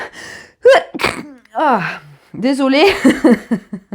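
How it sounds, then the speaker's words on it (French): A single sneeze bursts out in the middle of French speech, with talking before and after it and a quick apology right afterwards. "excusez-moi, je vais éternuer."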